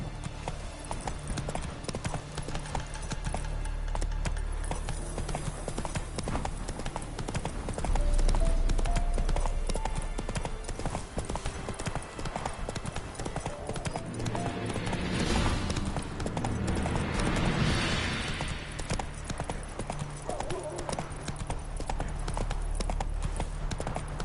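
Horse hooves gallop in The Witcher 3 video game, a steady rapid clip-clop beat running throughout, fairly loud and close, over a bed of game ambience and music.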